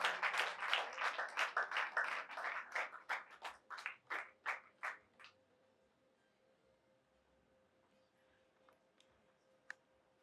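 A congregation inside a church in Kigali claps as people walk in. The clapping is rhythmic and even, then slows and thins out over about five seconds, leaving near silence with one or two stray claps.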